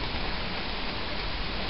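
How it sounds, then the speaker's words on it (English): Steady rain pours during a thunderstorm beside a creek. A dense, even hiss of falling water carries through the whole stretch, with no voices. "It's blowing. It's raining."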